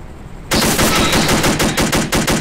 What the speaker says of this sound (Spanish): Recargando, disparándole al vehículo con el bar.